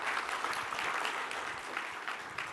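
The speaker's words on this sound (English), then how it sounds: "Can I get a round of awesome applause for this," An audience at a photography expo talk applauds steadily, a dense wash of many hands clapping at once without pause.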